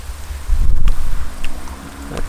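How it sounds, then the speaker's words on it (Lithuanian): Gusty wind buffets the microphone at a lakeside fishing spot near Raudonė. It makes a loud low rumble that swells and fades over a couple of seconds, with no voices. "Tai vat vėjas."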